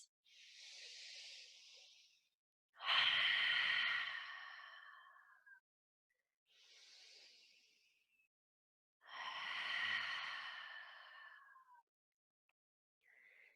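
Slow, open-mouthed exhalations during a yoga breathing practice: two soft breathy hisses alternating with two louder, fuller sighing breaths, each lasting a couple of seconds, with quiet gaps between and no talk.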